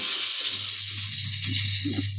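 Hot tempering oil poured over kadhi pakora curry sizzles and crackles steadily over a low hum, a continuous frying hiss that stays loud throughout.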